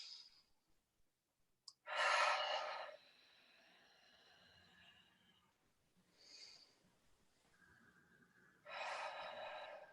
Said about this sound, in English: So we'll take a few deep breaths in here.